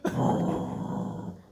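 A dog barks and growls at its own reflection in a mirror, giving a single short gruff bark that trails into a rough, throaty growl close by, with no voices over it.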